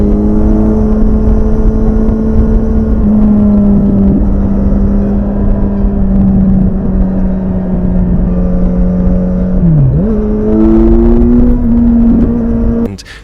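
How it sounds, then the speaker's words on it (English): A Kawasaki Z900 RS four-cylinder motorcycle approaches and passes on an open road, a loud deep steady engine drone with a brief pitch dip as it goes by, then fading abruptly. "all of a sudden I hear the deep sound of the four-cylinder"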